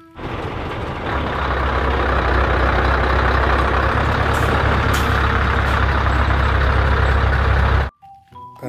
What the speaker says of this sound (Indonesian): Dan yang terakhir, mobil truk kontainer panjang.